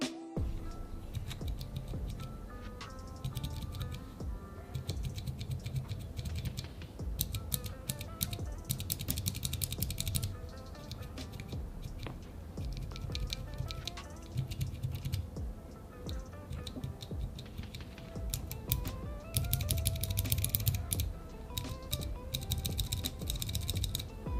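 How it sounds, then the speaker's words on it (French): Different mechanical keyboard switches are pressed one after another in a close ASMR recording, a continuous patter of crisp clicks and clacks with varying tones and no talking. "je vous ai enregistré une petite séquence ASMR où je clique sur tous les boutons et vous allez voir la différence d'écoute entre chacun des boutons"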